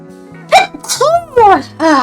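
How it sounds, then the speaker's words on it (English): A person lets out a sharp, close sneeze, and a voice follows with breathy, drawn-out vocal sounds. "I might sneeze."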